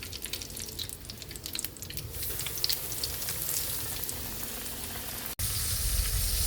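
Pork chop frying in a pan, a dense, continuous sizzle with crackling spatter that grows louder toward the end, close up with no talking.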